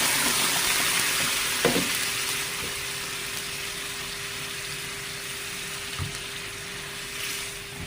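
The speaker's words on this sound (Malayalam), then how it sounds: "അരച്ച് വെച്ചിരിക്കുന്ന ആ മിക്സിൽ കുറച്ച് വെള്ളമൊക്കെ ചേർത്ത് അങ്ങനെ ഇങ്ങോട്ട് ഒഴിച്ച് കൊടുക്കണം" Ground red chilli chutney paste thinned with water hits hot oil in a pan, giving a loud, steady frying hiss that slowly fades, with faint clinks of a spoon and no talking.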